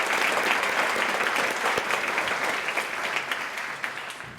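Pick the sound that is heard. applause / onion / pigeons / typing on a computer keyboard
applause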